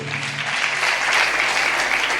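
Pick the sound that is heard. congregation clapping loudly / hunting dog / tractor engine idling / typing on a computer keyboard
congregation clapping loudly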